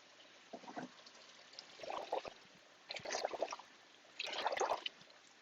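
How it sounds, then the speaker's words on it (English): Water is poured into a trough of coconut coir to make mud, giving four short, faint splashing pours separated by brief pauses, close up and quiet. "I'm putting the water in this trough that I've created on the backside here"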